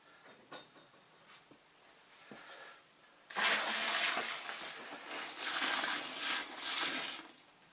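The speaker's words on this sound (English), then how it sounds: "I'm now going to top it up with tap water." Tap water gushing loudly into a home-brew fermenter for a Coopers stout with treacle, a steady splashing rush that starts suddenly after a few seconds of quiet clinking and carries on to the end.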